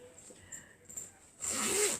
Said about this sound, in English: So now I have a zipper.